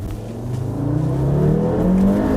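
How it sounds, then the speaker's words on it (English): An old Audi RS3 engine runs steadily with a droning, slightly rising tone, a faint hiss from an intake air leak under the bonnet mixed into the hum. "Sounds like there's a bit of an intake leak, air leak, under the bonnet."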